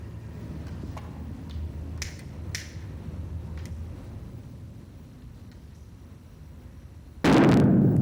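A propane and oxygen mixture at one to five volumes ignites in a single sharp, loud blast near the end, after several quiet seconds broken only by faint clicks and small knocks.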